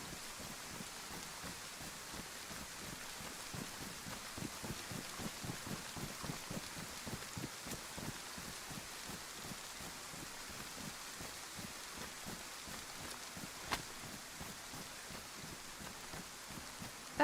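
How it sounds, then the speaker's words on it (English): Rain falls in the survival game DayZ or VEIN, a soft continuous patter with rapid dense drop ticks, fairly quiet and unbroken, with no talking. "I don't mind the rain, you know. I kind of hope it stays, but it sounds like it's slowing up."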